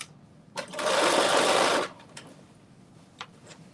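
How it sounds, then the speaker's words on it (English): A sewing machine stitches a facing onto the neckline of a knit dress, one loud continuous whirring run of about a second and a quarter, close by, followed by a few faint clicks and handling sounds. "we are sewing this facing onto this neckline"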